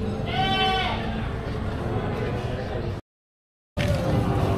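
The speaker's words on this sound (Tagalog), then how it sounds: "Lalahing mga kambing oh." Goats at a livestock market bleat loudly and close by with a wavering, quavering cry, over the steady hum of a crowded market, with a brief dropout near the end.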